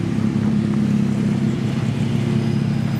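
A demolition derby car sits idling with its stock setup, giving a loud, constant low engine rumble that holds evenly throughout.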